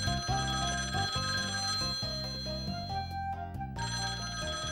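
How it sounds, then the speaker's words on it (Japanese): A telephone rings with a bright, electronic ringtone in the PS2 game Shikigami no Shiro, a clean repeating melodic pattern of tones with a brief pause midway, no voices present. "お電話のようですな。"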